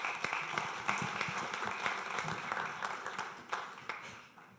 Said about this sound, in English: give him a wave and a clap and a woohoo